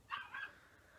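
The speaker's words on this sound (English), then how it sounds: "If you guys hear that, that's my dog barking." A dog gives a single short, faint bark from a distance in an indoor room, a quick yip that trails off within a fraction of a second.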